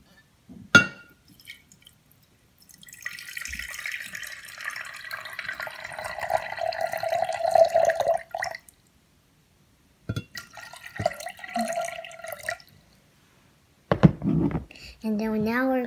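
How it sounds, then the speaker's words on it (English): Water pours into an Orbeez playset in several bursts, a sustained trickling fill followed by shorter pours separated by silence, close and clear. "Now I'm going to pour the water."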